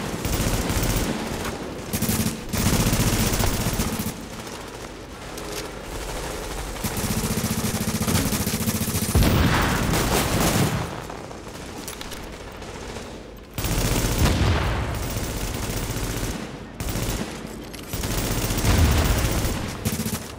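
Dense automatic gunfire in the video game Tom Clancy's The Division, loud and continuous bursts of rapid shots that pause briefly and resume several times, with no speech over them.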